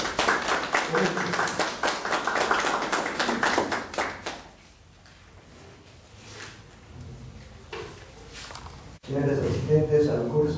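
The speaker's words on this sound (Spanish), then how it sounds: "recibiendo con fuertes aplausos a nuestros distinguidos ponentes" An audience at the opening of a library science course applauds the speakers, with rapid, close clapping for about four seconds that fades to scattered claps, followed by a voice speaking near the end.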